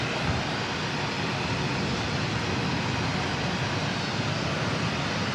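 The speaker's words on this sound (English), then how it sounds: "here's Qantas 144 heading back to Sydney" A Qantas airliner, flight 144 to Sydney, departs Auckland Airport with a loud, steady broadband jet roar that holds at full strength throughout, heard alone without talk.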